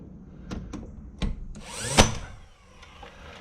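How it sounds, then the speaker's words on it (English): A Porter Cable cordless nailer driving 2-inch 15 gauge straight brad nails into roof rafters, with several sharp close snaps and a rising whirring burst near the middle, amid faint background hum. "Porter cable cordless nailer with 2-inch 15 gauge straight brad nails, and I'm nailing each one in each rafter in the tongue"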